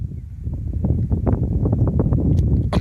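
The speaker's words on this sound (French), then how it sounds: "Le vent est en train de se lever clairement." Gusty wind rising outdoors in the Rhône-Alpes Auvergne region, a steady low rumbling roar with buffeting bursts against the microphone that build slightly in strength over a few seconds.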